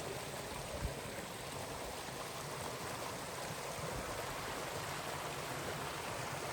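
A stream flows steadily on a hiking trail outdoors, a constant broadband rush of water running evenly throughout without a break, with no voices present.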